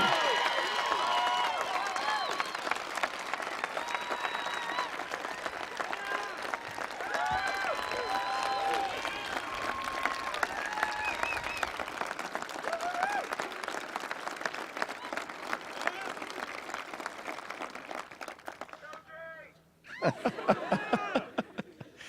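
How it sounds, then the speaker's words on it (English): Round of applause from a large audience at an address by the Governor of Colorado, sustained crowd clapping with some cheers and laughter, fading out briefly near the end before a short burst resumes. "Just give Jay one really big round of applause for everything that he"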